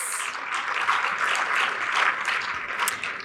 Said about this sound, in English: Let's give another round of applause for Kathy Reese